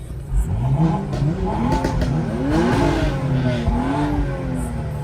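A BMW M235i engine revs and pulls hard on a cold-start breakfast run, its rising and falling drone loud and steady from inside the car with no break.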